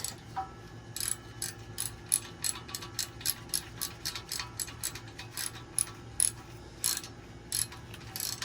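A torque wrench ratchets while tightening bolts on an engine build, giving a fast run of crisp, evenly spaced clicks in bursts, close and clear with no talk.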